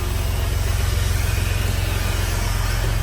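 A Detroit diesel truck engine idles in cold, snowy weather with the exhaust brake on, a loud, even low rumble with rapid regular pulsing and a faint high whistle running over it.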